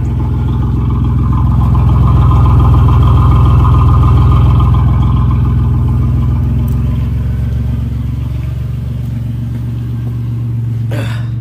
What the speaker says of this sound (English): But let's listen to the muffler.